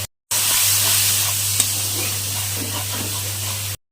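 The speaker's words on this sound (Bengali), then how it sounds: "পালং শাক আর পেঁয়াজ বাটাটা এখন দিয়ে দিলাম, পেঁয়াজ বাটারও দিয়ে দিলাম" Spinach and onion paste sizzles steadily in a hot pan for palak paneer, a constant bright frying hiss with a low electrical hum beneath and a faint stir click midway.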